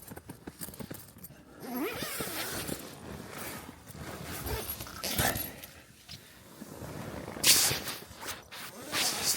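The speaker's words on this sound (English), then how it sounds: "This bloody tent and all its zips." A tent's zips are tugged open and shut, with rustling fabric and scrapes in bursts across the clip and a sharp zipper rasp near the end, close to the microphone in a Lake District four-season shelter.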